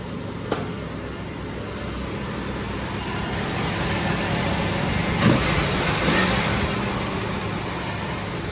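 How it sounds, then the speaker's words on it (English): The 428 V8 of a 1967 Shelby GT500 with dual quads runs loud and close under the hood. It holds a steady, rumbling note with a brief swell in the middle, and no one talks. "Get under the hood, I'll rev it up a few times."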